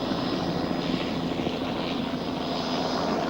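Helicopter flying over mountain slopes, a steady loud droning engine and rotor roar with a constant whine, continuous and unbroken with no talk.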